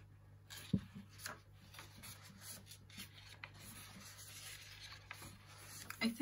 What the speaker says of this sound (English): So I'll just quickly flip through for you guys.